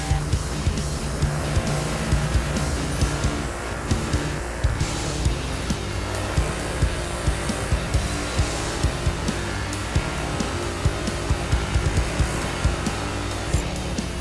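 A bench buffing wheel runs at speed against aluminum, a loud, continuous whirring drone with rough grinding texture and small regular bumps throughout, close and without talk.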